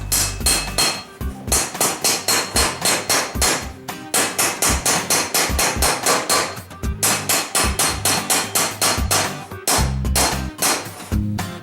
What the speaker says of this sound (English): we're going to bring that in here and maybe use it as an anvil, and we're going to see if we can straighten these out a little